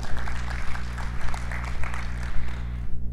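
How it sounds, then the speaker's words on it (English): Audience applause at a Florida educational retreat, a dense, steady patter of many hands clapping with a low hum beneath, fading toward the end. "give yourselves a round of applause for everything you do"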